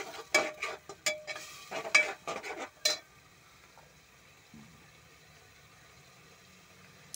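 Spices fry in a pan over high gas, with bursts of scraping stirring and sizzle for the first few seconds, then a quiet low sizzle carrying on alone.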